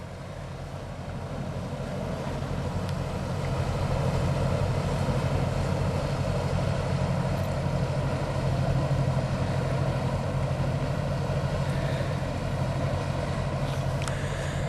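An aeroplane passes high overhead on a countryside riverside walk near Henley on Thames, a low steady drone that swells after a few seconds and holds, distant and continuous, with no voices.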